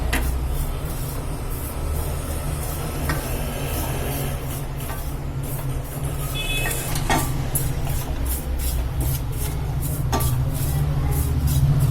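Millet flour dry-roasting in a pan as a spoon stirs it, a steady close scraping and soft rustle over a constant low hum, with faint ticks throughout and no talking.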